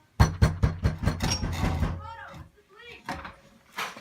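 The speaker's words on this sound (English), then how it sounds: "Open up your door, Mr. Romano!" Police pound on an apartment door in a series of about seven hard, rapid knocks near the mic, followed by shouting voices and scuffling.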